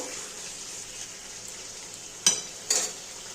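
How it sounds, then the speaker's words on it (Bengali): Chicken kosha frying in a pan, a steady low sizzle with two short, sharp scraping clinks of a spatula stirring near the end. "একটু নেড়ে দেবো।"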